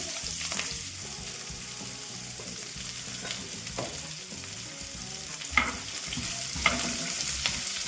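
Chopped onions sizzle and crackle steadily in hot tempering oil, with occasional scrapes and stirring clinks from a spoon in the pan.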